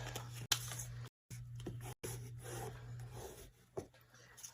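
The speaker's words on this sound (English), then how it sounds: "I just fold it over and burnish it down" A folded paper flap on a mini scrapbook being burnished down, giving soft, close rubbing and scraping strokes with a few sharp taps, faint over a low steady hum.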